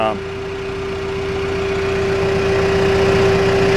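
John Deere 310G backhoe diesel engine idling at minimal RPM with a steady, even hum. The machine has an ongoing fuel system problem.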